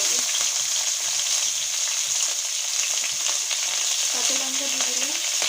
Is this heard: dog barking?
no